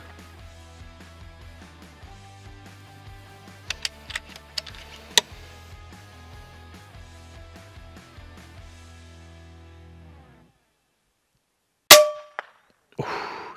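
A Pantera air rifle is fired off a tripod during a hunt: light clicks and ticks of handling come first, then a brief silence before one sharp crack, followed by a fainter report moments later.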